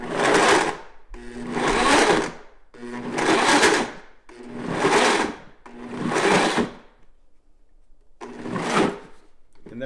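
A blender pulses chopped tomatoes with freeze-dried bell peppers in six loud bursts of roughly a second each, separated by short silences, with the last burst coming after a longer pause.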